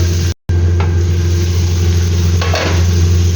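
Tomatoes and chili sauté in a pan with a loud, steady sizzle and a constant low hum underneath, broken by a brief dropout and a couple of faint scraping touches.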